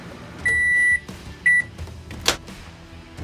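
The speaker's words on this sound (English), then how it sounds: "Then you have to put it in the microwave until it starts boiling." A microwave oven heating a cup of blue water until it boils: a soft running hum with a long electronic beep, a shorter second beep, then a door click and handling clatter.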